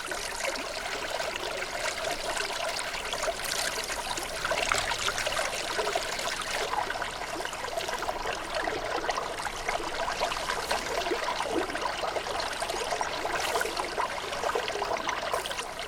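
Clear mountain water rushes and trickles over a man's fingers as he drinks from a stream near a high ridge, a steady close babbling flow with no voices.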